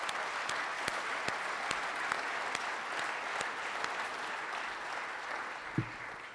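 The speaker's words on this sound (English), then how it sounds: "if we could give them one more enthusiastic round of applause." An indoor audience at a grand opening ceremony gives guest speakers a sustained round of applause, a steady wash of many hands clapping with a few sharper claps standing out.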